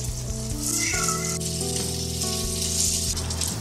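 Chive and egg stuffed dough cakes fry in a lightly oiled flat pan, giving a steady, close hiss and crackle throughout, with faint tonal hum from music or the hob running under the sizzle.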